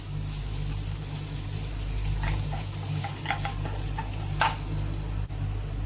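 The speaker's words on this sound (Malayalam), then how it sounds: "നന്നായിട്ട് ഇളക്കി ചേർത്ത് കൊടുക്കാം." Spices with black pepper powder and garam masala being stirred in a pan for chicken curry, a steady close scraping and frying hiss with scattered light clicks of the spoon, no voices.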